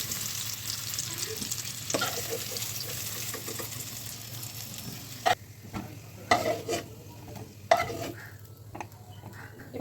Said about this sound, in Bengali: আলুগুলো লাল লাল করে ভাজা কমপ্লিট হয়ে গিয়েছে